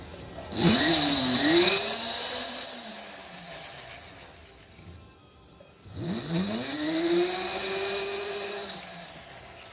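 Jeweller's drill with a stone setting burr cutting into silver, in two long high whining runs that spin up with a rising motor pitch, separated by a brief lull, close and fairly loud.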